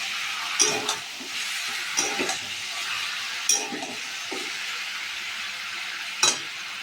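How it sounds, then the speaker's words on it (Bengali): Steady, close sizzling of chicken frying in hot oil, with a few sharp clinks of a utensil against the pan. "মাখিয়ে এবার তো তেলে ভেজে নিচ্ছি"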